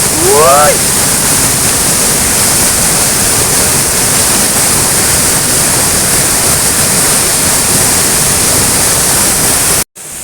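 Urulikkund waterfall in Kannur, a loud, continuous rush of falling water filling the scene, with a brief whistle-like chirp near the start and an abrupt cut near the end.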